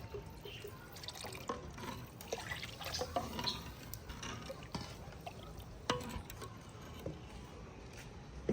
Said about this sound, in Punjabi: ਲੱਸੀ ਜਿਹੜੀ ਸੀ ਨਾ ਉਹ ਥੋੜੀ ਗਾੜੀ ਸੀਗੀ। ਇਹਦੇ 'ਚ ਥੋੜਾ ਪਾਣੀ ਪਾਵਾਂਗੇ।